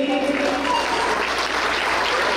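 A birthday celebration crowd gives a strong round of applause, a continuous close clatter of hands with faint musical tones early on.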